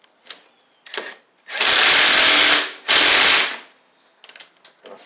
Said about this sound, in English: Tighten it down with the wrench there, just to make sure everything's straight